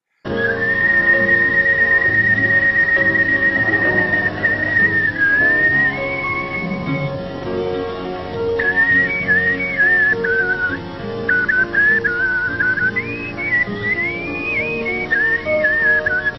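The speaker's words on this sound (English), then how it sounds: "He's whistling over there." Someone whistles a wandering melody continuously, the tone sliding up and down in pitch, fairly loud and close with no talking.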